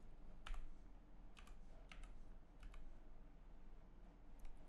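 Keys click on a computer keyboard as a short text prompt is typed for a Figma AI plugin, coming in quick bursts with pauses between them, faint and close, over a low steady room hum and with no talk.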